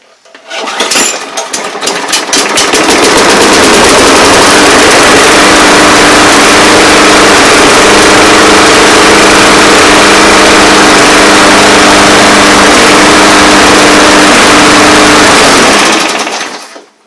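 A Briggs engine on a lawn mower is pulled into life with a few rapid sputters, then runs at a loud, steady high-revving drone for about fifteen seconds before cutting off abruptly.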